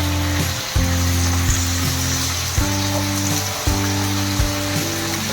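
Raw banana pieces sizzle steadily in a hot oiled pan, a loud continuous frying hiss with occasional soft spatters and a low hum beneath, no voices.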